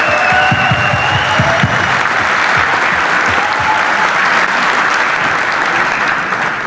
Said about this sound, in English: I want to give them both a huge round of applause